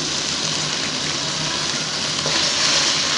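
Arbi (taro) and beef curry fries in hot oil with a steady, close hiss and crackle that holds evenly throughout, with no voices.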